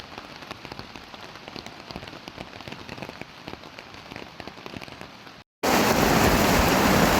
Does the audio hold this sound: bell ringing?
no